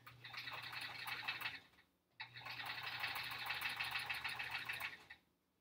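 Sewing machine stitching quilt strips in two steady runs, a fast even whirring hum broken by a short pause, close and alone without talk.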